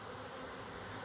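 A honey bee swarm buzzing in a dense, continuous drone near a small hive, steady and unbroken, with no voices.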